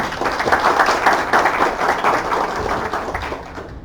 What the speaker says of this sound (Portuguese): Vamos uma salva de palmas para ela, por favor.